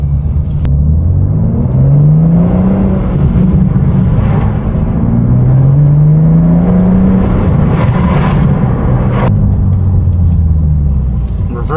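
A BMW G87 M2 drives along with a loud, steady engine rumble, its pitch rising through a couple of gear pulls and settling again, heard close from inside the car.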